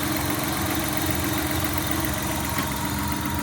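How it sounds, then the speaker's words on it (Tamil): A 2003 Maruti Suzuki 800 car engine idling up close, a loud and steady low rumble with an even mechanical hum throughout and no talk over it. "இன்ஜின் பார்த்தீங்க அப்படின்னா அப்படி ஒரு ஸ்மூத்தாக இருக்குதுங்க"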